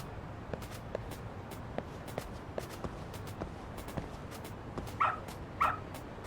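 Dog sounds from the video game Lost Judgment: soft footsteps and scuffles run throughout, followed by two short, louder yelps or whimpers near the end over a steady game background.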